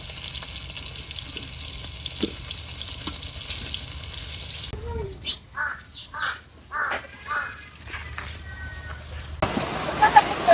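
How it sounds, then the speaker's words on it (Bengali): Rain falls in a village as a steady, even hiss. A stretch in the middle quietens under someone talking, then the downpour returns loud near the end. "আবার বৃষ্টি চলে আসছে শো শো করিয়া"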